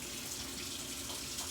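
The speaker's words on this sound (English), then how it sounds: "rinse these fish fillets off and get." Cold water runs steadily from a kitchen tap while fish fillets are rinsed under it, a constant soft splashing hiss for the full moment with no talking.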